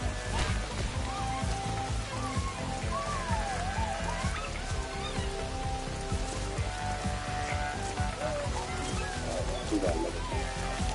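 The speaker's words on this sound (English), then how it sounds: "Speaking of heavy rain." Heavy rain in the video game Astro's Playroom, a steady pattering downpour with water sounds and game effects, running continuously under talking voices.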